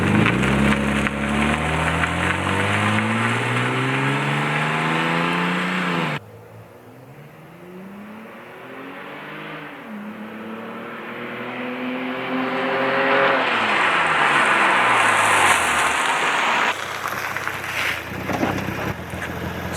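Car engine revving and accelerating in power mode on a test run with Pulstar spark plugs, rising and falling engine tones under heavy wind buffeting, quieter briefly mid-run, then climbing loudly again; no talking.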